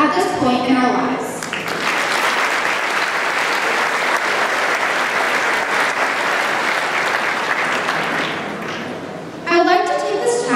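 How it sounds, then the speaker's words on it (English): A graduation audience claps in sustained, dense applause for several seconds. Faint voices are heard briefly at the start and again at the end. "Can we all please give a round of applause for these special people who have helped us arrive at this point in our lives?"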